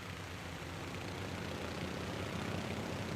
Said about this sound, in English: we still have that puttery low-powered engine sound. If we go to full throttle